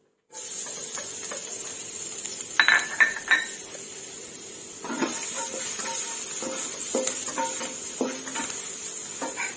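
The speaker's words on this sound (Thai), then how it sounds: "ผัดกระเทียมให้เหลืองหอมค่ะ" Garlic fries in a pan until golden for Chinese sausage fried rice, giving a steady bright sizzle with a burst of utensil scraping and clatter midway and lighter stirring knocks later.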